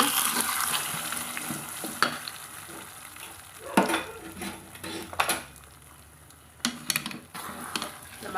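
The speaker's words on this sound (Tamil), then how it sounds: "அடி பிடிக்காமல் கலந்து விட்டுக்கலாங்க" Rice flour batter is stirred in hot oil in a pan, giving a soft continuous sizzle broken by scraping strokes and occasional louder clinks of the spoon against the pan at uneven intervals.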